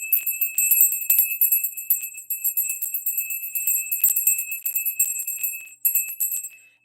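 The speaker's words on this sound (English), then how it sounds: "It's a solar plexus bell." A solar plexus bell is struck, giving a bright, high, sustained ring with several shimmering tones that decay slowly. Repeated strikes follow one another, and the sound is clear and close with no voice over it.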